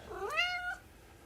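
House cat yowling, a single drawn-out rising meow about half a second long, close and fairly clear over quiet room background, alone with no talking.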